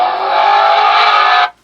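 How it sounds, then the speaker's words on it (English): An engine rev sound effect plays loudly from the speaker of an Oukitel WP19 rugged phone, a dense, sustained roar lasting about a second and a half before it cuts off abruptly, with no talking. "they have also added engine rev sound"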